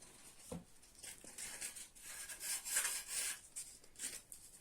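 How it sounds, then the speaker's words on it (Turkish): Faint, repeated rubbing strokes of sandpaper across a wooden table, quiet and close, rising and falling in uneven rhythm. "Şimdi buna zımpara atacağım ben."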